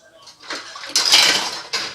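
A metal pizza pan covered in tin foil is handled in a home kitchen while lasagna soup is prepared, giving a few clattering, crinkling knocks of metal and foil, close and fairly loud.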